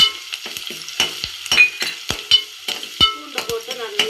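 Onion and garlic sauté in a pan for a katla fish curry, with a soft sizzle broken by repeated sharp spatula scrapes and clinks at an uneven pace, close by.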